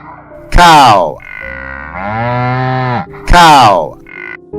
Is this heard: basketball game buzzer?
no